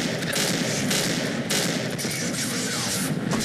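Rapid gunfire from a panic-fired weapon in the survival horror game Cry of Fear, a dense, continuous burst of close, loud shots filling the whole moment with no talk over it.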